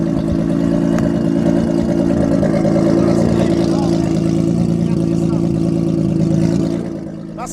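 A Nissan GT-R with a new Boost Logic 4.5-inch exhaust holds a loud, steady, deep engine drone close by, easing off near the end. Someone talks over it.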